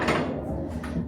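A pull door to a hotel bathroom swings shut, a brief soft closing sound set against steady room noise, with no talking.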